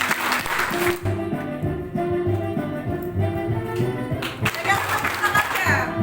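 A group claps hands in time along to a song, steady rhythmic clapping under loud music and an instructor's voice calling out.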